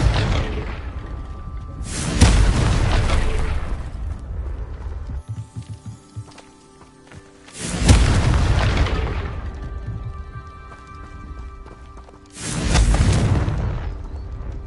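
Three heavy Confringo spell explosions from Hogwarts Legacy, each a loud booming burst with a whooshing tail, separated by quieter stretches of game ambience.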